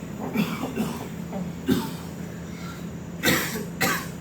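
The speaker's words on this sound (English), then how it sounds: "I can't stop coughing." Several sharp coughs close to the listener, two hard bursts near the end after softer ones earlier, over a low steady hum.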